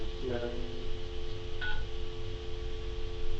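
A finicky telephone has a number dialed on it: a few short tone beeps sound near the start and another around the middle, with steady hum and background noise underneath.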